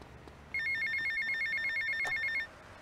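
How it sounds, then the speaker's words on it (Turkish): Telephone ringing in the video game GTA Vice City, a clear electronic ring repeating in quick pulses for about two seconds, loud against a quiet background. "Ulan ne telefonmuş be."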